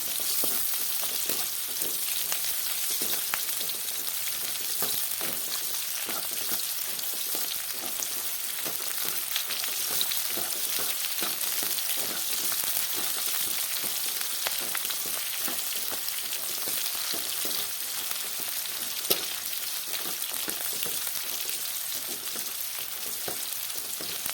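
Green chillies fry in hot oil with a steady, dense crackling sizzle that holds evenly throughout, close up, with no voices.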